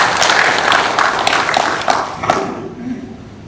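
Loud applause fills a cable car promotion committee meeting in a culture and arts hall, then tapers off with a few scattered claps and faint background voices.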